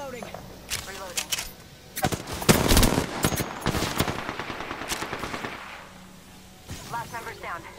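Bursts of Apex Legends gunfire crack loud and close, with automatic volleys peaking midway and tapering off, while a voice talks underneath between shots.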